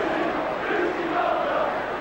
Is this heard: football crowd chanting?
yes